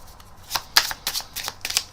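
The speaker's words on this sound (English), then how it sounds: "The spectator then absolutely can take the rest of the cards and shuffle them as much as they like" Playing cards being shuffled in quick riffling bursts, crisp and close, with no talking.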